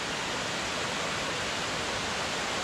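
Khlong Sai waterfall in Chaiyaphum pours in a dense, continuous roar of rushing water, loud and unbroken with no voices over it.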